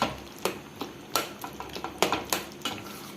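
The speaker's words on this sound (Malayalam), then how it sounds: "അതും കൂടെ ഇട്ട് നന്നായിട്ട് ഒന്ന് ഇളക്കാം" A spoon stirring Kerala-style potato curry with curry masala in a pan: a dozen or so sharp metallic clinks and scrapes at an uneven, steady pace, close and fairly quiet, with no talking.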